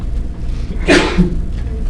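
A single brief sneeze in a classroom during an algebra lesson, sharp and fairly close, set against quiet room tone.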